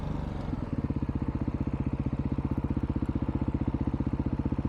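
A two-stroke dual-sport motorcycle engine idles close by on a Colorado trail, a steady rapid pulsing putter after a rougher start, loud and with no one speaking.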